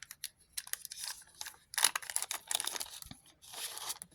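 A small plastic bag holding creature cards for the Dark Souls board game crinkles and crackles in close, irregular bursts, with a few brief pauses between handlings.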